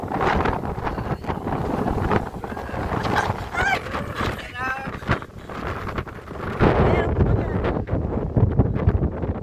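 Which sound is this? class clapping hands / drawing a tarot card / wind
wind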